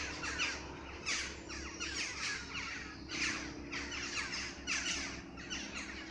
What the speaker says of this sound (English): Got some evening bird activity